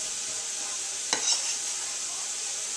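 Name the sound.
diced celery and garlic sizzling in a pan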